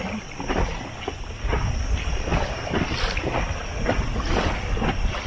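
A motor dinghy heads to a beach in the Pityusic Islands, with a steady engine drone under rushing wind and water slapping the hull in repeated bursts, close and moderately loud.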